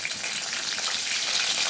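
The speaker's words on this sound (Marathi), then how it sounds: "तेल चांगलं गरम झालं की त्यामध्ये जिरं, मोहरी, नंतर हिरवी मिरची तेलामध्ये परतून त्यामध्ये बटाटे घालायचे।" Cumin, mustard seeds and green chilli fry in a spoonful of hot oil in a kadhai, producing a dense, loud, steady crackling sizzle close by with no pauses.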